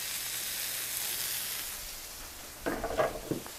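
Sausages and onions sizzle in a pan with a soft, steady hiss, joined near the end by a few clattering stirs.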